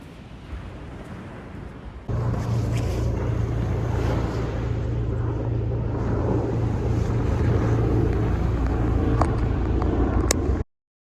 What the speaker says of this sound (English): Right, helicopter above.